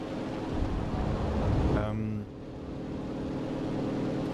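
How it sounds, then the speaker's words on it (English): Aircraft engine droning in the World War II shooter Enlisted, a steady low rumble that swells, then drops to a quieter hum, with someone talking over it. "I think it's just the sound of the engine kicks in when no other ambient noises are happening."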